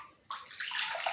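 Water splashes and trickles in a basin as a raised foot is rinsed, a close, steady wash of sloshing water that starts abruptly and continues to the end.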